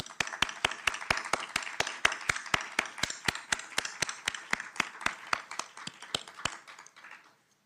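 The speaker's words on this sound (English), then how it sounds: "If you all could applaud when he walks in" An audience at a City of Detroit announcement event greets the mayor with steady, rhythmic clapping, a dense run of sharp claps close by that stops abruptly near the end.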